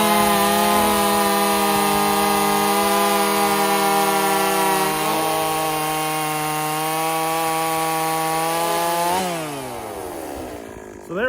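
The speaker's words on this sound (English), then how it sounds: "A little bit of a video for you comparing two saws, stock form versus portered form." Partner 5000 chainsaw, stock and ported versions, screaming at full throttle in a loud steady high-pitched whine, then dropping sharply back toward idle near the end.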